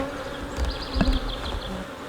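A dense, steady buzz of many honeybees hums close by at an open hive, with a few louder passes flaring up briefly before settling back into the drone.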